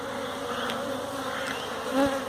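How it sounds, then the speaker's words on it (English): Honeybees hum in a continuous, even drone at a strong hive with drawn-out comb, close and fairly loud, with no voices. "Honeybees live in hives or colonies, and this is what you're looking at the moment."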